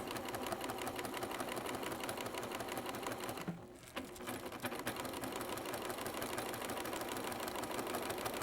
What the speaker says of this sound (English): I'm just going to stitch along the lines.